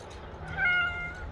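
A house cat gives one close, clear meow that rises and then trails off.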